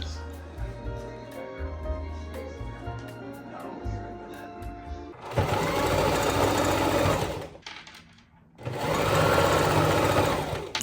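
A sewing machine stitches sleeves onto a stretchy birthday dress, running in a stop-start pattern at first and then in two long, loud continuous bursts separated by a brief pause, with quiet background music underneath.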